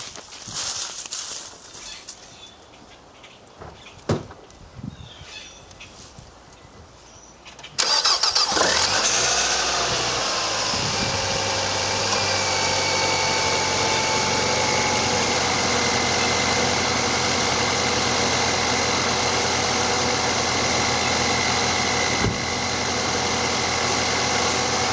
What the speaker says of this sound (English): now the next thing we're going to do is start up the engine